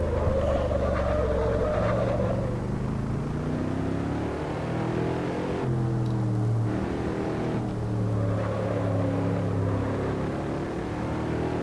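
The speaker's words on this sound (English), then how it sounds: "as you can probably hear then by the engine note of my SLS" Mercedes SLS engine in Assetto Corsa at the Nürburgring GP circuit, a steady loud racing drone whose pitch falls and shifts through gear changes under heavy braking into a corner, then rises again on the exit.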